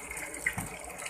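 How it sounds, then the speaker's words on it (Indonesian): Water runs steadily into tofu ingredients before boiling in a village tofu workshop, a continuous close splashing flow with no talk. "sebelum direbus ini dicampur dengan air dulu, diaduk sampai merata."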